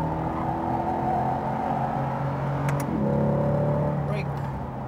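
Chevrolet Corvette C8 on a track at Speed Vegas, its engine droning steadily and rising in pitch as it accelerates, heard from inside under a speaking voice.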